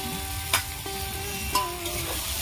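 Chili powder drops into hot frying oil for a black carp fish curry and sizzles steadily, with a few sharp scraping stirs of a spoon against the pan.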